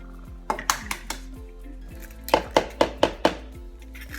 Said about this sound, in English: So I'm just gonna crack some eggs in.